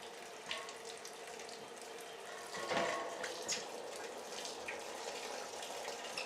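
Pureed mango, about three pounds of it, pours through a screened funnel into a keg for a mango seltzer, making a steady wet pouring and trickling sound with a brief louder splash near the middle.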